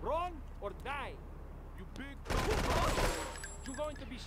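Gunfire in Grand Theft Auto 3, modded, with a dense burst of rapid shots in the middle, set between stretches of someone talking with faint game sounds in the background.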